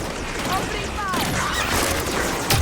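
Gunfire in the shooter game Halo 5: Guardians, a steady stream of rattling shots and impacts that runs continuously alongside in-game voices.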